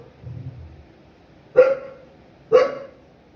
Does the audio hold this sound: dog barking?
yes